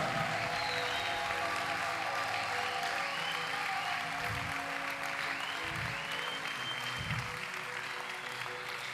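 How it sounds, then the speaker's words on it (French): A church congregation applauds for the Lord during a mass prayer service, a steady wash of clapping that runs the whole time at moderate, distant loudness, with a few low rumbling thumps. "Applaudis très bien pour le Seigneur."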